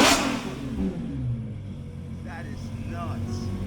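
A 2026 Lamborghini Temerario hybrid supercar engine revs around 2,000 RPM, opening with a sharp burst and then holding a deep, rumbling drone with brief rising swells, close and fairly loud.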